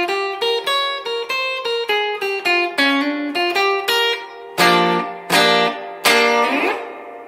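Electric guitar with a distorted, effects-laden tone plays a song's outro: a quick run of picked single notes, then three loud sustained chords that ring out, close and alone.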